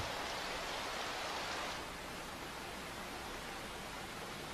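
Steady rain falls over a billabong, a dense, even hiss that is loudest at first and eases slightly after a couple of seconds, with no voices.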